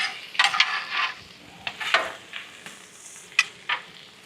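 Vegetables and rice fry on a Weber Slate 36-inch griddle outdoors, a steady close sizzle broken by several sharp scraping stirs and clinks of a spatula against the flat steel.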